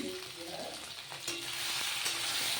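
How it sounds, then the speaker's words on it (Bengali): Brinjal pieces fry in oil in a kadai with salt and turmeric, giving a soft, continuous sizzle with a few faint clinks, alone and fairly quiet. "কড়াইয়ে তেল ছিল ওই তেলেই এখন বেগুনগুলিকে ভেজে নেব"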